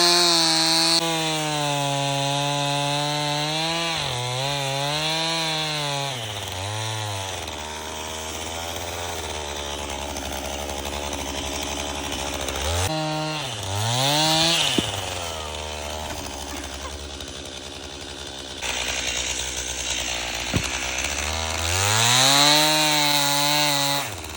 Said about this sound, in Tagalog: tapos na kaming mag-chainsaw.